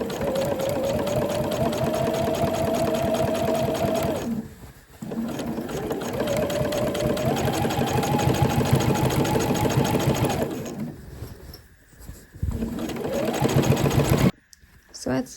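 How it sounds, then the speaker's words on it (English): Sewing machine top stitching through several fabric layers, a fast steady mechanical whirr in long runs broken by short pauses, with a voice speaking alongside. "I'm just going to top stitch through all those layers"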